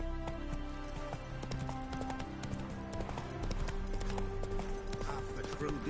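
Roach, a horse in a video game, gallops with quick rhythmic clip-clop hoofbeats under game music and character voices speaking throughout.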